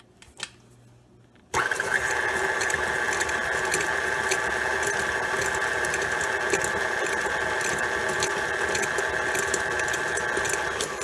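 An electric hand mixer whirs steadily in a bowl of flour, sugar and baking powder, switching on after a brief quiet moment and then running continuously, loud and close, with a constant motor drone.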